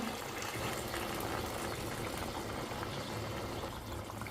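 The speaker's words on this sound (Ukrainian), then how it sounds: "Наливаю туди горячої кип'яченої води." Steady rushing pour of hot boiled water into a pot, a continuous gurgling stream with a faint hiss, close and unbroken from start to finish.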